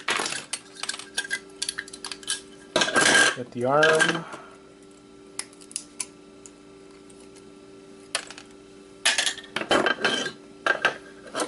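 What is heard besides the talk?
hammering open a hard drive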